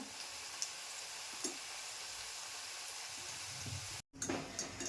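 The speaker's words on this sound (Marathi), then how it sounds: "कांदा आता भाजायला खूप वेळ लागतो ना जरा त्याच्यामुळे तो मीडियम गॅस करूनच तळून घ्यायचा" Onions frying in oil over a medium gas flame for a veg biryani, a steady soft sizzle with small pops and crackles, broken briefly by a near-silent gap.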